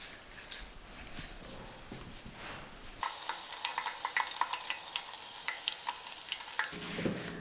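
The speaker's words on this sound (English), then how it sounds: "Now we're going to deep fry it" Food is deep frying in hot oil, a bright, dense sizzle with crackling pops that starts suddenly partway through and continues steadily after some quieter handling noise.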